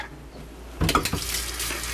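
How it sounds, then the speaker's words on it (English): Cold tap water suddenly gushes on and splashes over ears of corn in a kitchen sink as the silk is rinsed off, a steady close rushing stream with no talking. "nice cold water, we wash the hairs off"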